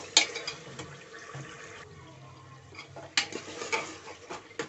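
Mutton being fried and stirred in a pot, faint sizzling and bubbling beneath intermittent metal scrapes and clinks of a spoon against the pot, fairly quiet and close.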